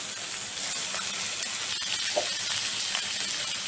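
Tomatoes tipped into hot oil for Bengali mutton kosha, a steady broad sizzle and hiss of frying with faint spatters, close and continuous with no talk.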